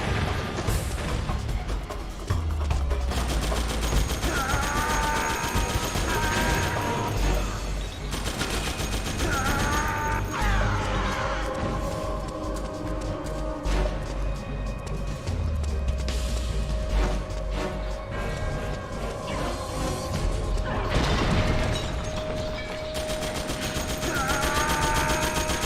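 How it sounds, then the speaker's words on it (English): Rapid machine-gun bursts and heavy grenade blasts in Metal Gear Solid 4 roll on loudly and nearly without pause, dense battlefield fire layered over low booms throughout. "Yeah, it's grenades."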